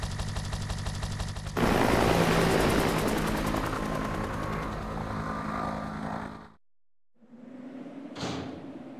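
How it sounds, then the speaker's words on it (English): Helicopter in the video game Resident Evil 3: Nemesis, a loud continuous rotor and engine roar with dense rhythmic chopping that runs for several seconds, cuts out abruptly, then returns more quietly with a brief sharp burst. "Nicholai beat us to the chopper."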